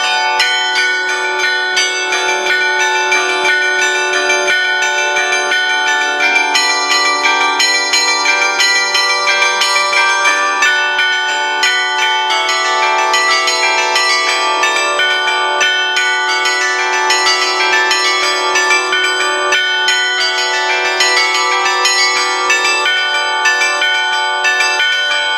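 Church bells rung by hand by a team of bell ringers at a national bell-ringers' gathering in Italy, sounding as a continuous dense peal of overlapping metallic strikes, loud and steady throughout with no talk.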